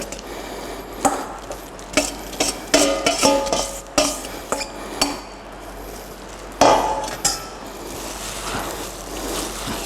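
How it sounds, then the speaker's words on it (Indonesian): Dim sum dough mixed with mushrooms being stirred in a bowl, a series of close, uneven scraping and knocking strokes against the bowl that bunch into bursts and then ease off. "Diaduk lagi betul-betul sampai merata."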